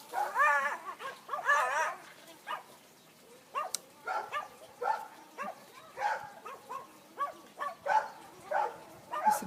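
A dog barks repeatedly in short, separate bursts, fairly faint and set against a quiet background, with some whiny yips between the barks.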